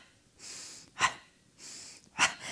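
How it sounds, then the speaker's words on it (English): Breath pumped in and out in rhythm during a Pilates exercise: two cycles of a soft airy inhale, each followed by a sharp, forceful huff of exhaled air, close and fairly quiet. "now we're gonna add that pumping breath"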